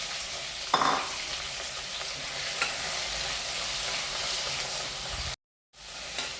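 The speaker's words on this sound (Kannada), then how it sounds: "ಇದನ್ನು ಇವಾಗ ಸ್ವಲ್ಪ ಎಣ್ಣೆ ಹಾಕಿ ಫ್ರೈ ಮಾಡ್ಕೊಂಡು ಬರುವ." Cashews and onion fry in oil in a pan for chicken gravy, a constant sizzling hiss with occasional stirring scrapes, cutting out briefly near the end.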